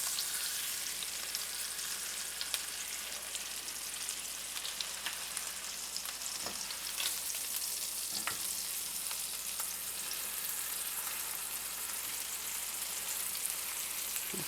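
Pork chops sizzle and fry in a pan, a steady close crackle with occasional pops and light scraping, no voices.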